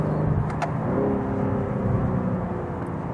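A new BMW M3 with paddle shifters accelerates, its engine note a steady, loud, layered drone heard up close for about three seconds, with no talking.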